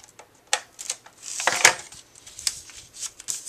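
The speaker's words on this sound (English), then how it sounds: "I will take a tape runner and go right along that edge." A tape runner is drawn along the edge of a handmade Cricut Mickey birthday card, giving a run of quick, crisp clicking and ticking taps, close and fairly soft, with scattered paper handling between.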